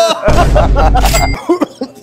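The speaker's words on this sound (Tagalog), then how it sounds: "inuubo ka na" A person coughs loudly and close up in a short burst of harsh, throaty hacks, followed by a couple of smaller catches of breath.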